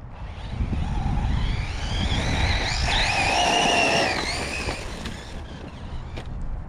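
An Arrma Typhon 6s radio-controlled car runs at full throttle, its high electric whine climbing and holding in pitch mid-pass before fading and dropping away, heard over outdoor background rumble.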